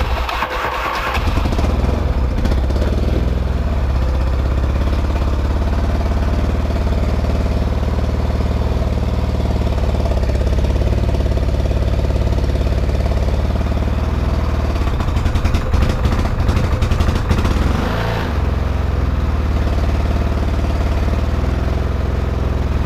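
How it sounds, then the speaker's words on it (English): A motorcycle that had sat unused for a long time starts cold and settles into a loud, steady idle held up by the rider, with a rough, slightly uneven engine note and a brief rise in revs midway. "This bike hasn't been started in a long time, so you want to hold the idle at a certain idle."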